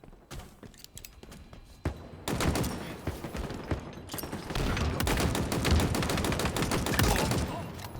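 Dense automatic Commando rifle fire in a competitive Halo esports match, several rapid bursts layered with other gunfire and in-game effects, loud and sustained for most of the stretch.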